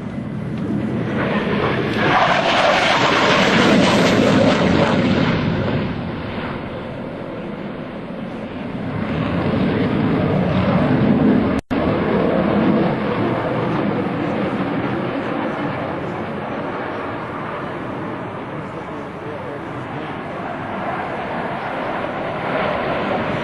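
An F/A-18 jet flying a maximum-performance minimum-radius afterburner turn at an air show roars loudly, rising to a peak and then settling into a sustained, more distant rumble.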